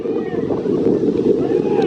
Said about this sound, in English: It's a little windy, more windy than I thought it was going to be, but you can hear the wind